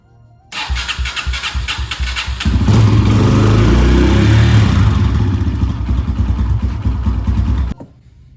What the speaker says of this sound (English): make sure you start the bike and let it run for a minute to fill up the filter with oil